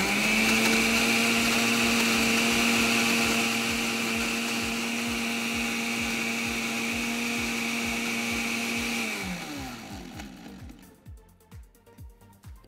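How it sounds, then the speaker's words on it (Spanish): A blender whirs at full speed through children's milkshake ingredients, a loud steady motor whine that holds for several seconds, then slows and winds down into rattling pulses as the blade stops. "Ahora vamos a licuar todos nuestros ingredientes."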